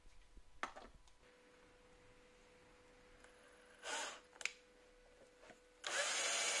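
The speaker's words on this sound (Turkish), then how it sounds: "Evet, son vidayı sıktık" Screws are driven in while assembling a Labarna LBN-R001 countertop shelf, with two brief bursts of turning and whirring near the middle and a louder burst at the end, separated by quiet pauses.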